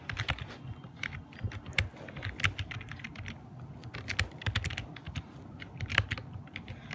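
Someone types code on a computer keyboard, with irregular bursts of crisp key clicks and occasional louder strikes. The typing is close and continuous, and no one speaks.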